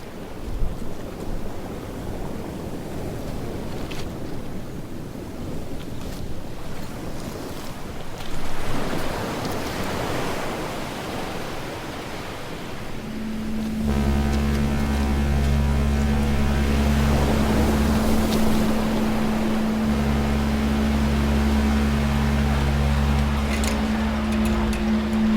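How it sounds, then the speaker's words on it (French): A boat crossing the sea on the way to school, with a steady rush of wind and waves that gives way midway to a loud, constant engine drone and hum close by. "Prendre le bateau pour aller à l'école."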